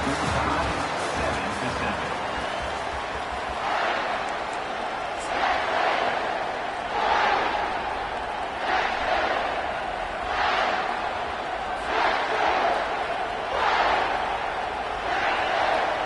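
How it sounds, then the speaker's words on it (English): Football stadium crowd at a KML vs TEX game roars continuously during a fourth-down play, its noise swelling in rhythmic waves about every two seconds under steady broadcast commentary. "This crowd busting the decibel meter and trying to will a 4th down stop."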